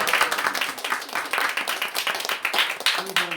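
A church congregation claps together to welcome a deacon at a Christmas service, a dense, steady patter of many hands filling the space, with a voice briefly cutting in near the end.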